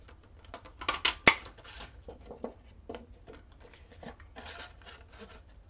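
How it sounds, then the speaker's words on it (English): Scissors snip through paper labels in a few crisp, close cuts, with soft rustling and handling of the paper between snips. "let's go ahead and just cut some of those out"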